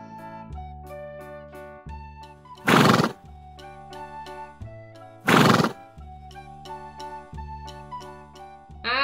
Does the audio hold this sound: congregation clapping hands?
no